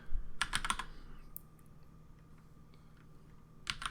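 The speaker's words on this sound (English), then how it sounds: "I'm going to type" Fingers type on a computer keyboard in two quick bursts of close, crisp key clicks, separated by a quieter pause with a faint hum.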